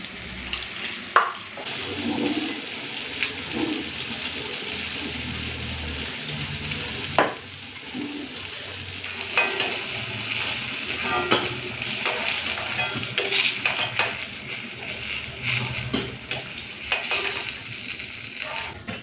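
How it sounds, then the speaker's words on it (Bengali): Eggplant slices fry in a pan with a steady, moderately loud sizzle. Occasional clinks and scraping handling noises break through over nearly twenty seconds, and no voices are heard. "এই যে বেগুন ভাজা"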